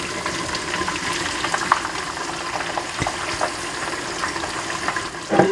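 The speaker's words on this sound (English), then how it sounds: "So all my vegetables are nicely fried." Vegetables for one-pot vegetable jollof rice fry steadily in hot oil, a dense continuous sizzle with scattered crackles and pops, close and fairly loud, ending with a brief stir or clatter.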